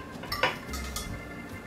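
Cooked meat for pâté chinois is spooned into a baking dish, with a couple of quick metallic clinks of the spoon against the dish and then quiet.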